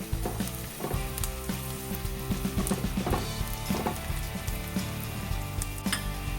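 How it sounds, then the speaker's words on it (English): Onions fry with crushed ginger and garlic in a pan, giving a steady, close sizzle with soft crackles and occasional stirring scrapes throughout. "1 tablespoon ginger garlic crushed. Cook these until the onions turn brown."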